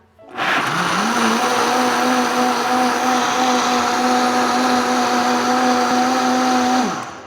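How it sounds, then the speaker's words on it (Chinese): A Vitamix high-speed blender on a high setting grinds soaked soybeans in water into soy milk, spinning up quickly to a loud, steady whirring drone for several seconds before cutting off. "我们来 用破壁机给它打成细腻的豆浆"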